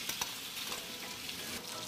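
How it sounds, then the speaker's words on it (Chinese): Slices of rice tofu fry in hot rapeseed oil for a spicy stir-fry, giving a soft, steady sizzle with a few faint scrapes of stirring, quiet and close with no talk. "米豆腐现在遇到了热油，迅速的在边上就出现了那种小泡泡"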